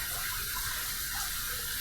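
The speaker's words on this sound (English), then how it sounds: "We're going to heat this up under some hot water" Hot water runs steadily from a tap to warm a shaving bowl, a constant close hiss and splash with no voices.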